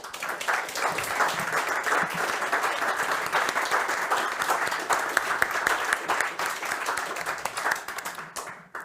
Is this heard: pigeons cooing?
no